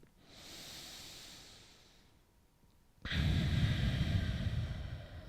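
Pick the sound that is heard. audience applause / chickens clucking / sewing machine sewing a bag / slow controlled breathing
slow controlled breathing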